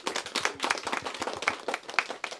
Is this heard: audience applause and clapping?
yes